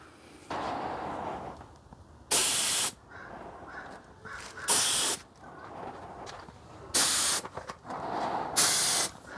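Spray gun laying clear coat over a repainted panel, in four loud hissing bursts of a second or so each, spaced a couple of seconds apart, with quieter shop noise between them.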